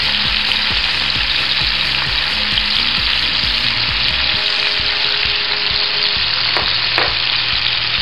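Shrimp and broccoli with cayenne powder being stirred in a hot pan, a loud, steady sizzle with repeated rhythmic scraping and clacking of the utensil against the pan, close up, without speech.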